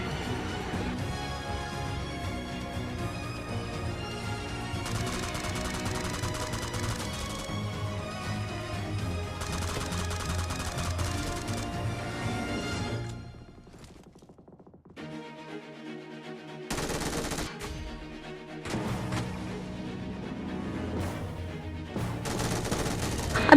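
Gunfire from the video game PUBG Mobile in a solo versus squad match, with dense repeated bursts and rapid automatic fire against game music and effects, briefly dropping quieter before more shots resume.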